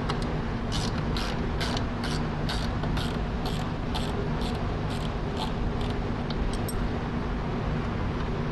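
A hand ratchet backs out quarter-20 bolts holding a tray on an air skid, giving a string of sharp, evenly spaced clicks over a steady mechanical background.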